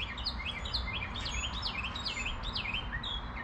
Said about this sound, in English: I got a bird going crazy